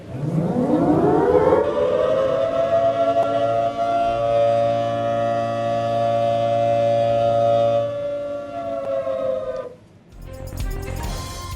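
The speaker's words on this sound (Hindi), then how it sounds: "सायरन की आवाज सरनमों में गूंजने वाली है" A civil defense siren sounds over Pakistan to mark a minute of silence for Kashmir Solidarity Day, winding up to a loud, steady wail that holds for several seconds before dropping away near the end.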